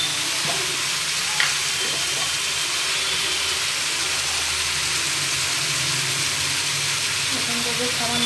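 Spices with turmeric fry in a hot wok, a steady broadband sizzle running throughout with occasional scrape and stir clatter, close and fairly loud.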